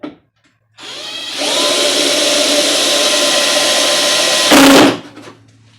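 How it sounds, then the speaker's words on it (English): A power drill bores a hole into a door for a wall anchor while mounting a coat rack, a short whir then a loud sustained high-pitched whine that bites harder near the end before stopping abruptly. "Go ahead, drill your hole."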